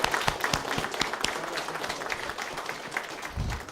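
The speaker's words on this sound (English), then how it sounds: "I have to give a round of applause for Carole Moresi" Banquet guests at a community TV anniversary dinner clap for an organiser, a lively, fairly close round of individual claps with some sharp hand strikes standing out, sustained before a low rumble near the end.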